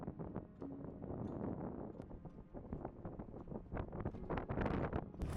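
Strong wind buffets the microphone on a mountain trail, the Takemura-shindo route in Japan's Northern Alps, in a constant rough roar with gusty surges and rustling throughout, no voices.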